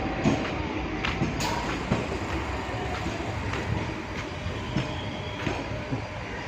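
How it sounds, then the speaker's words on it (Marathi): A commuter train departs Virar station, rumbling steadily past with faint rhythmic wheel clicks and metallic rattles, fairly close, no speech over it. "ही बघा ट्रेन चाली है चालली आहे बोरिवली साईडला"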